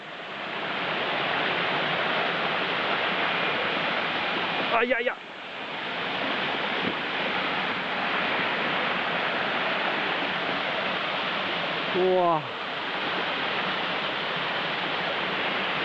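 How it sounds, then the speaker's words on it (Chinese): A tall vertical waterfall at a remote campsite roars steadily and loudly throughout, a broad continuous rush of falling water, with brief excited exclamations from a man breaking in twice. "垂直的瀑布啊，不过比登鸠小一点啦"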